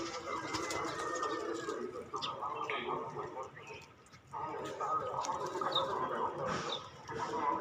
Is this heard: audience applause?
no